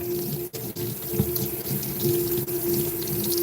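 Rinse water squeezed out of a paint roller into a sink after painting a projection screen, a steady running, splashing wash close by with no talking.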